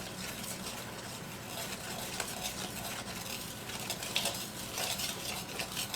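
Chocolate chip cookie brownie batter is stirred in a bowl with a steady, wet scraping and clinking of utensil against the bowl, continuous and fairly close.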